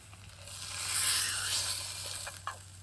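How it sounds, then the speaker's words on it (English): Fish frying in a pan during an overnight camp at a fort gives a steady, close hiss that swells in the middle and then eases, over a low hum, with a couple of small clicks near the end. "We got our fish cooking."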